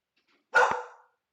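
A single sharp dog bark, fairly close, in an otherwise quiet space.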